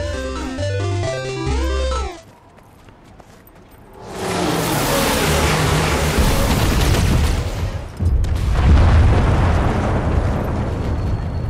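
A weapon fires in the video game Guild Wars 2 after a short melodic musical phrase and a brief lull, unleashing a loud, long roaring blast that swells again into a second heavy rumbling surge.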